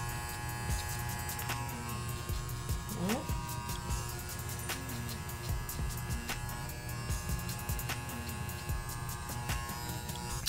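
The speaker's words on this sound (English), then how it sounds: "We use the corner of the clipper, pull the lever slightly backward just to be on the safe side" An electric barber's hair clipper buzzes continuously and closely while cutting hair for an undercut, with a steady hum and brief taps and clicks as it moves.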